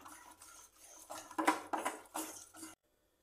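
Apple bajji batter is mixed with a pinch of salt: a utensil scrapes and clinks against a bowl in a series of close, uneven strokes, then stops abruptly into silence.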